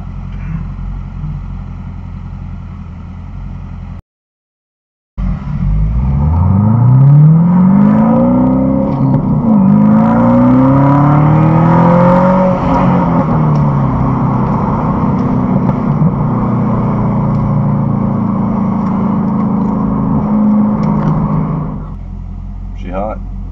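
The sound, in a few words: supercharged car accelerating and revving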